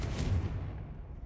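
A spell cast in Hogwarts Legacy lands as a single muffled, booming explosion. It is short, with a low thud that fades quickly.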